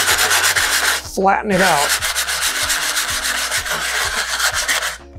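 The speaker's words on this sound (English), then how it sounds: "using a circular motion to sand it." Steady, loud rasping of sandpaper rubbing against a model rocket's cardboard body tube in quick repeated circular strokes, briefly interrupted by a short spoken remark.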